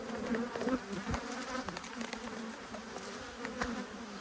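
Honey bees buzz in a thick, unbroken drone right at an opened hive during an apiary inspection, with a few faint clicks from the equipment mixed in.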